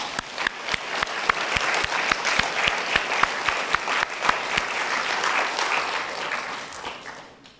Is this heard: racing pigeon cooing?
no